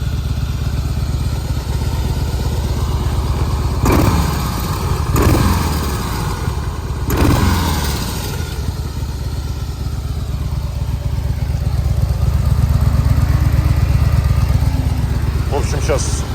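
A Harley-Davidson motorcycle idles on its stock exhaust with a low, steady rumble, close by, punctuated by a few short louder bursts.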